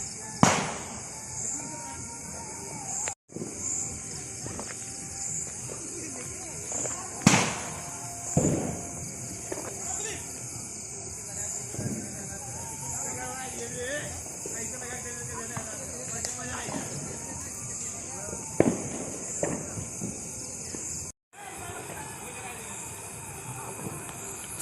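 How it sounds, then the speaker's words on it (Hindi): Firecrackers bursting on a road during Diwali celebrations, with scattered sharp bangs and pops at irregular intervals against a steady hiss and crowd noise. "सारे लोग यहाँ पटाखे फोड़ रहे हैं अभी रोड पे।"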